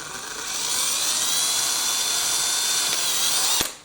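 A small power drill with a 2.5mm bit whines steadily at high pitch while boring holes into a model Bruder cat handler chassis, running for a few seconds before stopping abruptly.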